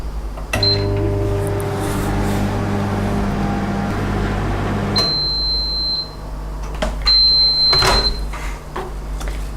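A microwave oven hums steadily, then a door clicks and several beeps sound, followed by more clunks and another beep near the end.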